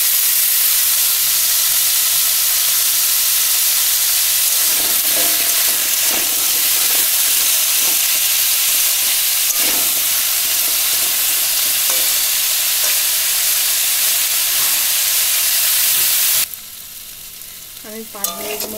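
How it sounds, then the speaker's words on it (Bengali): Pumpkin pieces fry in a pan over a medium flame, giving a steady loud sizzle broken by scraping stirs, until the sound shifts abruptly near the end. "কুমড়োগুলো একটু ভাজা ভাজা করে নেব।"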